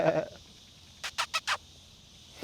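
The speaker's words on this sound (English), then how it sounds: "And you even have sheep here." Sheep near a road around Nha Trang, Vietnam, give four quick, short bleats in a rapid row, moderately faint at some distance, after a brief rumble and then quiet.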